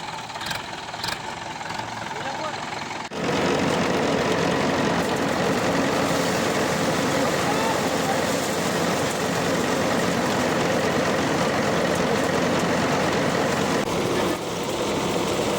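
A Mahindra 575 DI tractor drives an Ajmer thresher threshing peas, its engine at first lighter with a few knocks, then jumping to a loud, dense, steady mechanical roar that continues unbroken.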